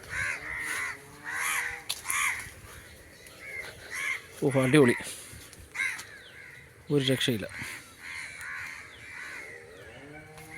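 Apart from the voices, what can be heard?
crows cawing by a lakeside fish bund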